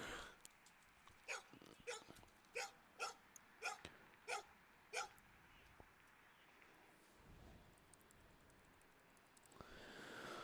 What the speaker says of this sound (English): We got a loose dog here. It's coming right up here. It's barking.